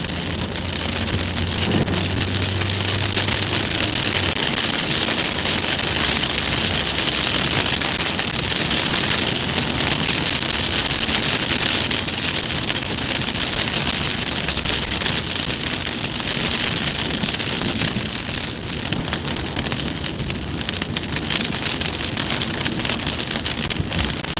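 Steady rain falls in Arizona throughout, a dense, constant hiss of drops with some wind noise, loud and close.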